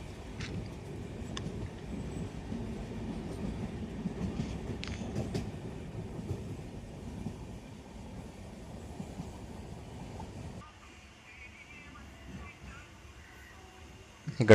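A passenger train runs on rails in Kerala near a small station, heard from on board as a rumbling, rattling roll that quiets toward the end as it slows.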